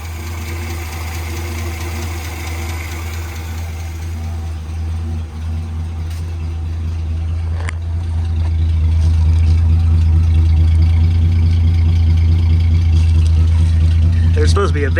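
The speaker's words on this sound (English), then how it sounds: "The engine seems to run really good." A 1958 Plymouth Plaza with a flathead six idles steadily throughout, a loud, even low rumble that swells slightly in the second half, with a few faint clicks over it.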